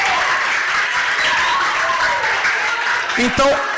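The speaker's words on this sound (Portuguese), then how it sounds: "Uma salva de palmas para ele." Schoolchildren and audience at a municipal school event give a round of applause, a continuous dense patter of clapping from a crowd, with a voice briefly speaking near the end.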